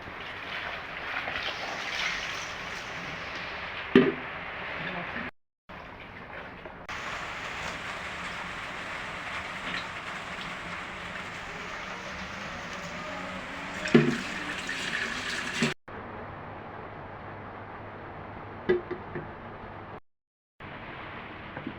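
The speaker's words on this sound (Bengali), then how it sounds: "বন্ধুরা এখন পানি দিয়ে দেবো" A steady stream of water pours and splashes into a cooking pot for beef khichuri for a long stretch, with a few brief clanks and short breaks.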